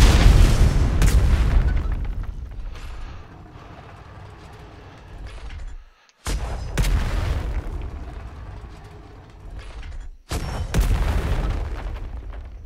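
Mortar rounds strike and blow up a forward operating base in the video game Atlas, with three heavy booming explosions, each a loud burst followed by a long rumbling decay, separated by brief pauses.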